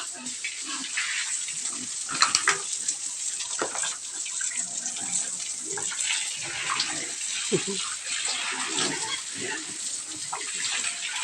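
Steady spray of water hosing down a pig pen on a farm raising fattening pigs, a continuous hiss with irregular splashes and knocks throughout, moderately close, with a voice talking faintly underneath.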